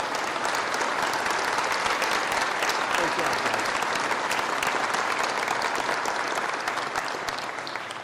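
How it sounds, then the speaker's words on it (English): A full room of Merit Medical employees breaks into loud, continuous applause, a thick, even wash of clapping that holds steady for the whole stretch and tapers only slightly at the close. "So give yourselves a round of applause."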